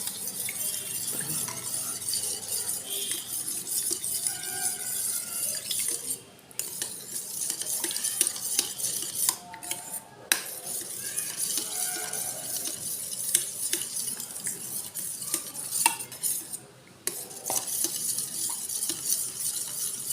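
A spoon stirring oil into tandoori roti dough in a bowl, a long run of soft scraping and mixing strokes with occasional light clinks of metal against the dish, close and fairly quiet, with no talking.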